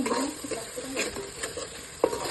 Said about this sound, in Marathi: वाटण छान ते सुरेपर्यंत परतून घ्यायचं आता